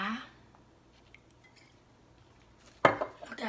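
Lao raw fish salad, koi pa, being plated, with a sharp clatter of utensil against dish after a quiet stretch, followed by a few softer knocks and scrapes; a voice is faintly present.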